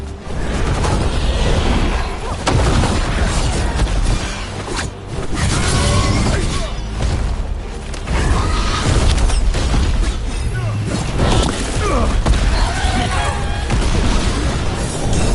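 Gunfire and explosions from Dragon Age: The Veilguard fill a loud, dense battle scene, with booms and bursts layered continuously over a busy mix, alongside voices.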